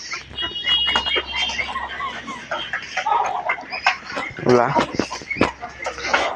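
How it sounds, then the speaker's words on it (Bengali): Chinese geese call outside in a yard, giving a few honking, clucking cries amid the farm birds. A person talks nearby through much of it, and the calls come in short bursts around the talk. "বাইরে তো দেখছো নি আমার চীনা হাঁসগুলা"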